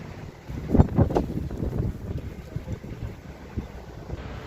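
Strong wind in Aigaleo, Greece, rumbling against the microphone, with stronger buffets early on that ease into a steady, lower roar.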